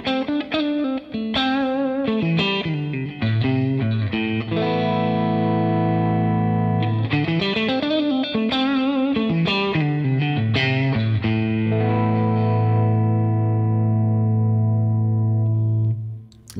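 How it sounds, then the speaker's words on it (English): Electric guitar played through a JAM Pedals compressor pedal with a classic old compressor tone: sustained chords and picked notes ring evenly and loud throughout, with no talking. "it is that sort of classic old compressor sound"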